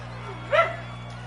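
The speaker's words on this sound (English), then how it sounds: "That was my dachshund over there, Ginger." A small dachshund gives one brief, high yip-like bark from a short distance, over a steady low electrical hum.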